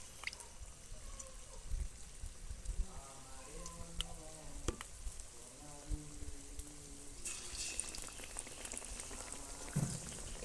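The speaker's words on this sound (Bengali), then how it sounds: "এবার এটাকে এই যে বেসনটা মেখে রেখেছিলাম এর মধ্যে সুন্দর করে ডুবিয়ে নিয়ে এটাকে এক এক করে তেলের মধ্যে ছেড়ে দেব" Besan-battered stuffed okra fritters go one by one into hot oil, which bubbles and crackles softly at first, then swells into a louder, fuller sizzle as more pieces are added; quiet and close with no talking.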